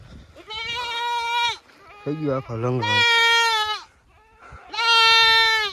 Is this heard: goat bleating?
yes